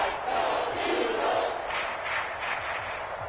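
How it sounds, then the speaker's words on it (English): Crowd roar from a Madden 23 Ultimate Team football game, a dense steady wash of cheering and shouting that swells slightly as a big third down approaches, continuous and fairly distant. "the crowd getting into it as we come up on a big 3rd down"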